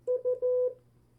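Morse code practice tone sending the letter U: two short beeps followed by one long beep, a clean, steady mid-pitched tone heard alone and close.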